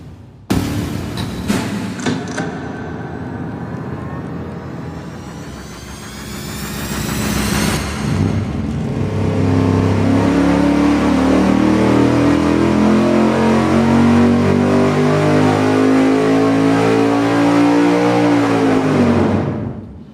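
Racing engine on a dynamometer during a firing order test, starting with a few sharp blips, then climbing into a long loud sustained rev that holds at high RPM before abruptly cutting off.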